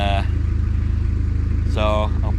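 A motorcycle engine ticks over with a steady low pulsing throb beneath a voice, which talks briefly at the start and again near the end.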